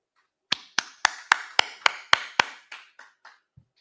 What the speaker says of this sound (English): All right, clap it up.